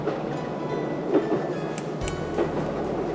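A steady rumble of a train on the Great Central Railway in 1981, approaching Swaithe, running on rails with faint clinks and clatter, fairly constant in loudness throughout.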